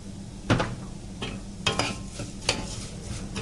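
Vermicelli frying in a pan with sugar: a soft, steady sizzle broken by a few sharp scrapes of stirring, close up, with no talking.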